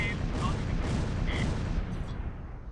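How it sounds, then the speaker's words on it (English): A mortar barrage in the World War II video game Close Combat V makes a dense, continuous rumble of blasts and crackling explosions. It stays loud throughout, then eases slightly at the end. "let's go ahead and drop our mortar barrage"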